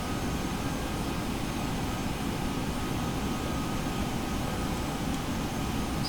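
An aircraft engine drones steadily in flight in the X-Plane 11 flight simulator, a constant broadband roar that fills the whole stretch at an even, loud level with no talking.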